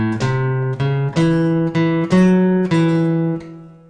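A blues walking bass line in E played on guitar with the open fifth string and fretted notes, about six plucked low notes in steady rhythm, close and clear with no talk.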